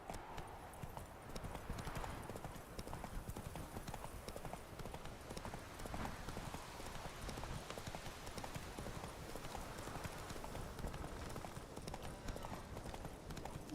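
Roach, Geralt's horse in The Witcher 3, trots along with steady, continuous clip-clop hoofbeats throughout, close and moderately loud over faint game ambience.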